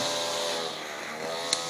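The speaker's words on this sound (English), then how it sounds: "If you can hear that in the background, some guy's mowing his lawn." A lawn mower runs at a distance behind the scene, a steady engine drone with a harmonic hum that persists evenly for the whole short stretch.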